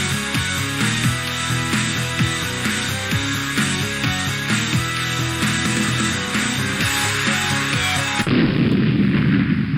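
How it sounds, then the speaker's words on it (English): A booming explosion sound effect rolls out in repeated heavy blasts over a driving musical bed for WrestleMania 37 at Raymond James Stadium in Tampa Bay, cutting off abruptly near the end into a rougher rumbling noise. "You hear that explosion and you know it is WrestleMania season"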